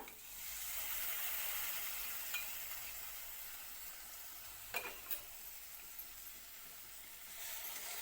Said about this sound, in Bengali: এবার একসঙ্গে মশলাকে কষিয়ে নিতে হইব